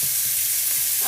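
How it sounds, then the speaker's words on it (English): Onions sautéing in a pan for a Brazilian shrimp stew, a brief steady sizzle with light stirring scrapes, close and moderately loud. "we saute these just until them onions"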